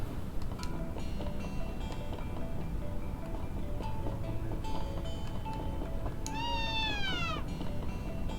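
A cat in the action role-playing game Ys VI: The Ark of Napishtim gives a clear, drawn-out meow over steady game music and ambient noise, following fainter tonal game sounds.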